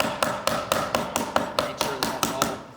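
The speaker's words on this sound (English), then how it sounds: "go back through with the pounding" A hammer pounds a fold flat on a hard block during a bookbinding demonstration, with about eleven sharp, evenly spaced strikes at a steady rhythm, close and alone.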